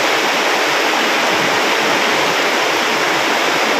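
Flood water overflows on a farm as a dense, loud, unbroken rush of splashing water fills the whole stretch without pause.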